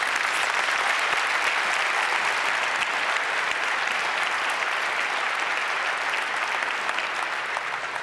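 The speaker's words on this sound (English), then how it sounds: "Please give a bit of applause." Applause from a conference audience at a hacker congress talk, a dense even clapping crowd that holds steady throughout and thins slightly toward the end, with no speech over it.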